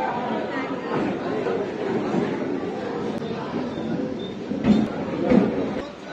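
A Namkhana-bound local train at a busy Sealdah station platform, heard as a steady rumbling din of the carriage and crowd with people chattering throughout and a couple of brief clanks near the end.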